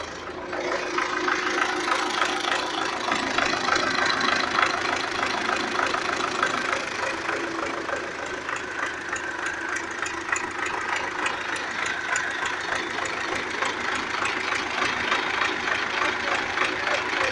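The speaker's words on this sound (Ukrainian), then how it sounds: "Трактор працює." A steady diesel engine of an MTZ-80 tractor idles close by after its first start, a continuous even rumble with a faint rhythmic knock, running alone without talk.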